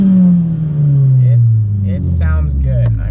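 An MK7 Volkswagen Golf with a Stage 3 tune revs nearby, its four-cylinder engine droning down from a high rev into a low rumble, with a person talking over it.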